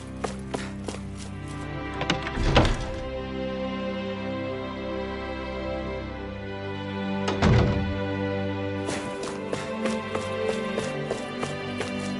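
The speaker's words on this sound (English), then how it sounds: "I always love the sound of hammers banging away." Hammers banging in the Tales of Arise game: a few heavy wooden-sounding blows and bursts of clanging over a steady ambient music bed, moderately loud.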